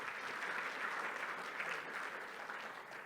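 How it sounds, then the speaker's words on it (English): A room full of listeners claps steadily after a talk, a dense, continuous round of applause with no voices over it. "let's give him a round of applause."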